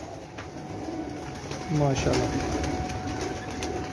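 A champion racing pigeon's mother gives a soft, brief coo close by on a rooftop, with someone speaking around it and a faint background hum.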